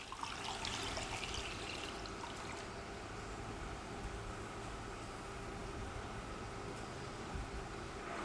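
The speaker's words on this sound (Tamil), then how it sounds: "எல்லா தண்ணி ஊற்றிடலாம்" Water pours steadily into a pan for making Bombay halwa, a continuous splashing rush with no pauses and no voices.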